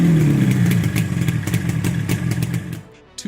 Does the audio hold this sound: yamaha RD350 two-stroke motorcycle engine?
yes